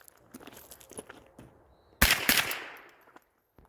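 A .22 LR rifle fitted with a CMMG conversion kit fires two quick sharp shots close by, following soft handling clicks and rustle, then the reports fade into quiet.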